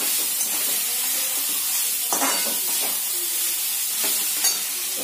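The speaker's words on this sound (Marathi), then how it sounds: "थोडे थोडे मिक्स करूया आपण, म्हणजे छान परतवले जाते." Poha stirred and fried with onion in a kadhai, a steady close sizzle under continuous scraping of a spoon against the pan, with no talking.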